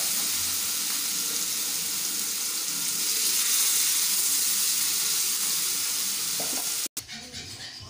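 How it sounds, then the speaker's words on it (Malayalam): Fish frying in coconut oil, a steady loud sizzle that holds for about seven seconds and then cuts off abruptly, with a faint clatter afterward. "ഇനി ബാക്കിയുള്ള മീനും ഒഴിച്ചെടുക്കാം."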